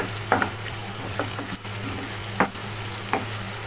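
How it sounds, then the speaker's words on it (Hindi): Onions sizzle in reheated hot oil with a steady, close frying hiss, and a spoon scrapes the pan a few times. "अब मैं इसमें प्याज डाल दूँगी। अपने जो तेल गरम हुआ है दोबारा।"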